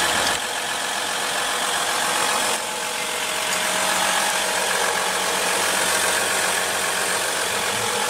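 A 2015 Jeep Grand Cherokee engine idles with the hood open, giving a steady, even mechanical hum that stays constant for the whole stretch with no talking.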